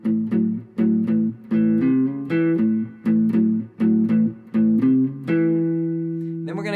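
A blues guitar plays a riff moved to A, a repeated choppy figure of short plucked phrases with brief gaps, ending on a longer sustained chord.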